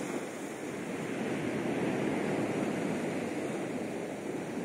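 Small waves roll on a stormy sea on an October morning, a steady, broad wash of surf blended with wind noise that holds an even level throughout, with no voices.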